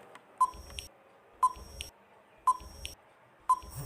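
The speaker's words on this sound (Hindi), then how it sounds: "पहले टाइमर लगाता हूँ आपके लिए 5 सेकेंड" A five-second countdown timer gives short, sharp electronic beeps, four of them evenly spaced about a second apart, each followed by a brief fainter tone, with no talk.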